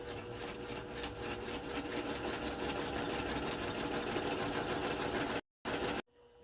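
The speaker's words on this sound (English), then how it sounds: "These are the two main roof panels being sewn together, or the French felled seam." A sewing machine runs steadily, stitching a French felled seam joining two main roof panels of a single-wall tent, a continuous close mechanical whir that cuts out briefly near the end.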